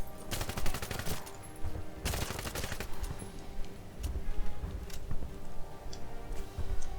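Gunfire in the video game 007 Legends: rapid bursts of automatic fire crackle for several seconds, with quieter scattered shots and clicks between them, loud and close; no talk.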